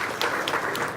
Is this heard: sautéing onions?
no